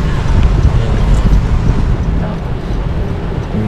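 Heavy rain with gusting wind in Daet, a dense, steady broadband roar with strong low rumble, loud and continuous throughout without a break.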